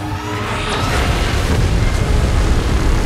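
Godzilla unleashing an energy beam followed by an explosion, a loud, continuous deep rumbling blast with a brief rising whoosh, heavy and sustained throughout.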